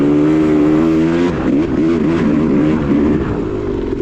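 A Yamaha YZ250 two-stroke dirt bike ridden through deep ripper ruts on a Tennessee motocross track, its engine screaming loud and close, revs bouncing and wavering as the bike jolts through the ruts.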